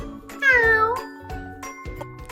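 A cat gives one clear, drawn-out meow close to the microphone, followed by a few quieter, soft knocks and rustles.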